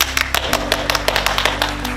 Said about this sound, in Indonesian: Yuk adik-adik kita kasih tepuk tangan buat kebaikan Tuhan Yesus